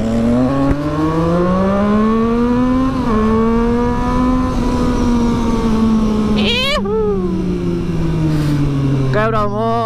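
A Triumph Street Triple 675 motorcycle engine revs up and down in a loud, rising-and-falling whine, its pitch sweeping with each throttle blip and several quick sharp rev spikes near the end, with voices talking over it.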